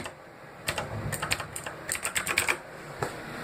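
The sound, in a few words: mechanical keyboard typing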